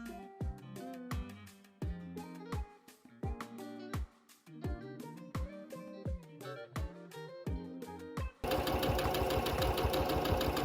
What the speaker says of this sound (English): I'm going to sew this bias tape down like this.